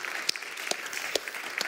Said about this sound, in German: Gebt mal einen Applaus für die beiden.